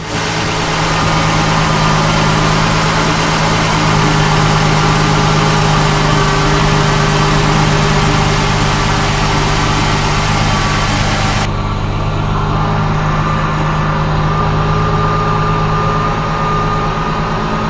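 A 2004 Ford Mustang engine idles steadily and loudly right after a fuel pump replacement, a continuous close rumble with a constant hum and no voices over it.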